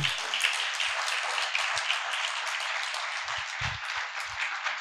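A church congregation applauds to praise the Lord after a sermon, a dense, steady burst of many hands clapping that carries on evenly throughout, with no speech over it.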